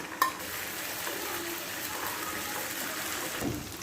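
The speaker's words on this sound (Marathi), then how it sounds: "ब्राऊन झाले की त्यामध्ये आलं लसणाची पेस्ट टाकायची आणि ते होऊ द्यायचं" Ginger-garlic paste frying in a pan with browned onions, a steady low sizzle with a faint stir or clink at the start and another near the end.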